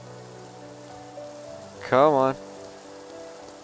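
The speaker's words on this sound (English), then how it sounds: "Let's just go sleep the rain off." Steady rainfall patters on a surface in the Minecraft video game, a continuous soft hiss running throughout, with a man's brief spoken words breaking in near the middle.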